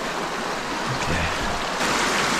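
Creek water swirls and rushes loudly and close as someone wades through a small stream, a dense continuous wash with some low sloshing in the middle.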